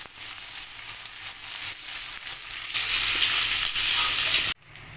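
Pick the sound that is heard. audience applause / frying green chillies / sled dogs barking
frying green chillies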